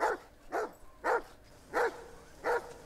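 A dog in the film Signs barks five times in evenly spaced, sharp, mid-loud bursts over a quiet background, with no talk.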